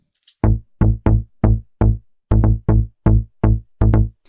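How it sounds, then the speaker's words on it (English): Short, punchy synth bass loop from a Trilian instrument, ten deep plucked notes in a syncopated rhythm with gaps of silence between them, loud and dry with no voice. "Now I've created a little kind of bass loop with trillion"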